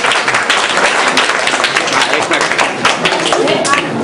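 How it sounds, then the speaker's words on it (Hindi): Children clap loudly and rapidly in a dense, continuous round of applause welcoming guests at an honouring ceremony, with a voice partly audible over it. "बच्चे जोरदार तालियों के साथ स्वागत"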